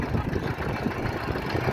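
A tractor engine runs steadily at idle, a low, even rumble with a slight knocking texture, moderately close and continuous without talk.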